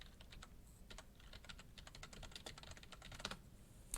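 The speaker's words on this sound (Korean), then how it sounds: "그대로 타이핑 해주시면 되겠습니다" Someone types on a computer keyboard while entering a chart title in a spreadsheet, a quiet, close, irregular patter of key clicks with no voices.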